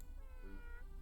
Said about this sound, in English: Jimbo half yawns, half meows